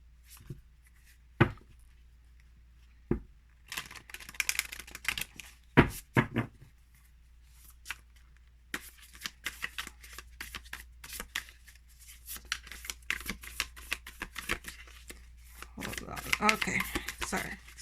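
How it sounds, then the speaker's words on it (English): Overhand shuffling of a new oracle card deck: dry, crisp riffling bursts of stiff cards, some in clumps, with occasional sharp taps and soft handling noises, close up and at moderate level. "shuffling is not too bad. I am getting clumps."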